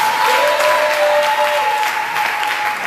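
Church congregation at a Sunday service applauding and acclaiming the Lord, a dense, steady wash of clapping with a few sustained cries and whistles, loud and continuous throughout.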